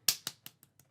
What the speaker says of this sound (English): Little clap there for him.